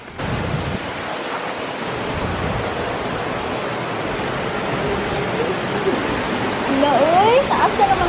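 The Dodiongan waterfall in the Philippines gives a broad, steady rush of falling water heard from a short distance, with a voice briefly speaking over the roar near the end.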